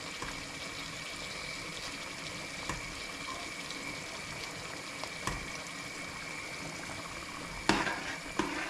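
Cream being stirred into a pan with a big spoon, a soft steady bubbling and sizzling simmer with a few faint spoon clinks and a louder scrape near the end.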